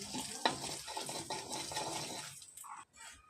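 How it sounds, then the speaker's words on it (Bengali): Panch phoron and dried chilli are stirred in hot oil with ground coriander, cumin and salt in a pan: a steady hissing sizzle with scraping strokes of a spoon, quieting briefly near the end. "মশলাটা একটু নেড়ে ছেড়ে দেবো।"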